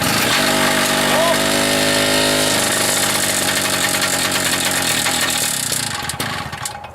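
A motor engine runs continuously as it warms up, a steady, loud idle whose tone and rhythm shift about a third of the way through, then fades slightly at the end.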